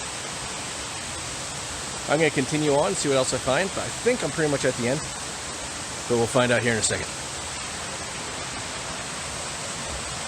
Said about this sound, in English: I look up further up those falls, and there's definitely more falls.